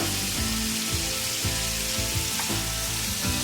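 Winter-hunted crow meat sizzles steadily in a hot pan, a dense, continuous frying hiss with faint periodic stirring knocks, close and with no voices.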